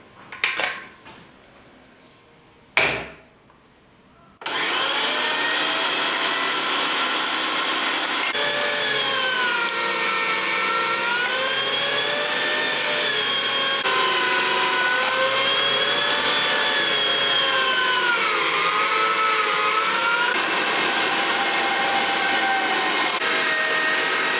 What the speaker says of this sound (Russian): Сначала мясо мы перемалываем.